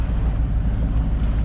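A sailboat motors under engine power near Gruissan on a grey day, with a steady low engine drone and a rumble of wind buffeting the microphone.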